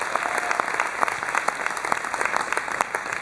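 Festival audience at the Gérardmer film festival applauds the short-film teams before a screening, steady dense clapping of a large crowd at moderate loudness, heard alone without talk.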